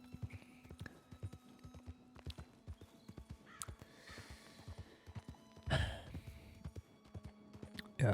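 Horse hooves clip-clop at a steady walking rhythm in the Red Dead WildRP game world, close and fairly quiet, with a brief louder burst of rustling movement partway through.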